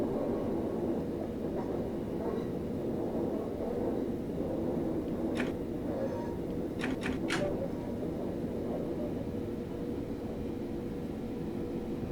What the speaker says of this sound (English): So the train going past.